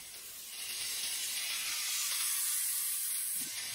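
Vegetables hit a hot pan spiced with turmeric and curry powder, a loud steady hissing sizzle that swells in after a quiet start and holds close.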